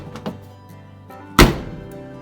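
A single solid thunk of a VW bus door shutting, sharp and close, preceded by faint clicks and light handling sounds.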